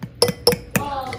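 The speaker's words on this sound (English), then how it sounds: "I use a fork. I don't know, for me it's easier than using a freaking whisk and stuff." A fork clinks three times against a bowl while white cake batter is mixed by hand, sharp bright taps evenly spaced and close, with faint scraping after the last strike.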